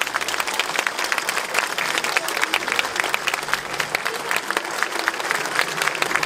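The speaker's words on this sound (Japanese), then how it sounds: "もう一度大きな拍手をお願いいたします" An outdoor festival crowd in Hachioji claps loudly for a Taiwanese dance troupe from Kaohsiung, a dense, continuous wash of many hands that stays strong and even throughout.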